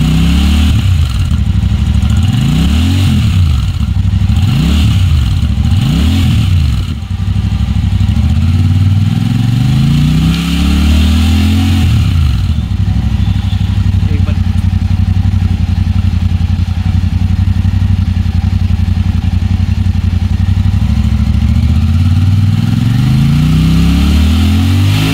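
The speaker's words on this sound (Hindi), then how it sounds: "धीरे धीरे सर को बोलेंगे थ्रॉटल दीजिए," A Super Meteor 650 motorcycle engine is revved repeatedly with the throttle, its pitch rising and falling in several strong swells before settling into a steady, loud idle rumble with further revs near the end.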